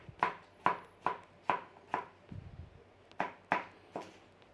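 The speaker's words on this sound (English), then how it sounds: "So we need to be cubing sensible cubes, you know, nice and small." A knife chops vegetables into small cubes for a Cornish pasty filling, a steady run of sharp, close knife strikes on a board, with a short pause before a few more cuts.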